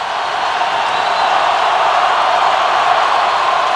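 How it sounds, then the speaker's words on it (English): Huge stadium crowd at the Iron Bowl college football game between Alabama and Auburn, a loud, steady roar of cheering voices with no break, heard from within the stands. "Listen to this crowd."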